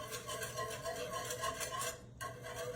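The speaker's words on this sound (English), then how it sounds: "you want to give that a mix and get that all creamed up together" A spoon stirs cubed steak gravy in a pan, a soft repeated scraping and swishing in a steady rhythm at close range, pausing briefly before resuming, with no talking.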